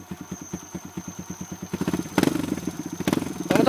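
A motorcycle engine on an off-road trail ride in Sekayam chugs in fast, even pulses that grow louder and rougher as it revs, with a few sharp clattering bursts and no speech over it.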